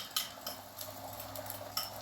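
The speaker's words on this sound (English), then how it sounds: "Hear a nice little sizzle on the eggs." Eggs sizzle in a hot pan during stovetop frying of fried rice, a steady close crackling hiss with faint clinks of utensils or cookware.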